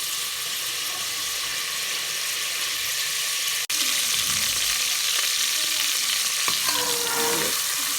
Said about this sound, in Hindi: प्याज हमने ले लिया है, चॉप किया था, इसको अच्छे से फ्राई करेंगे।